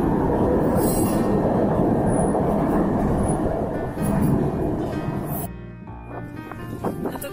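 A Budapest metro train runs with a loud, steady rumble and high metallic wheel squeal that drops off abruptly near the end, leaving a quieter hum.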